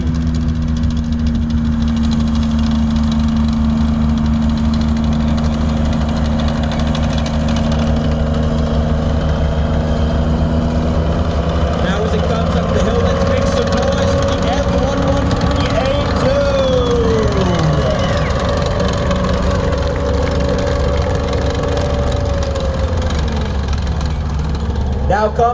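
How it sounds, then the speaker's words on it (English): Engine of an M113A2 combat engineering vehicle runs steadily at a museum war-games event, a loud, deep rumble with a mechanical whine that slides up and down in pitch, while someone speaks over it. "Et ce véhicule ici, c'est le M113A2, véhicule du combat du corps du génie."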